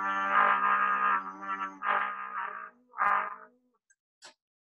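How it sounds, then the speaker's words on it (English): A trumpet plays a buzzing, screaming exercise, a series of harsh, rasping sustained tones with a growling multiphonic edge, broken into several short bursts and ending with a brief final blip, close and alone. "So, doing that through the trumpet sounds like this."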